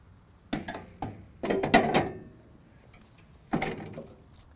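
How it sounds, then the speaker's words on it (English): A turf rake cartridge slid onto guide rails and fitted into an Allett C34E electric reel mower, giving several close metallic clunks and knocks, then a pause and a final clunk, with no talk. "I'm now going to put the turf rake into the mower"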